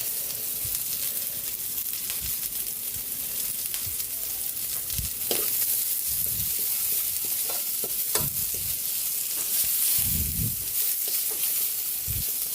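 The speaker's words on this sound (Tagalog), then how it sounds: "Antayin natin maluto yung sibuyas" Onions sizzling with garlic in a hot pan, with a steady broadband frying hiss throughout and repeated scraping stirs at intervals, close up and with no talking.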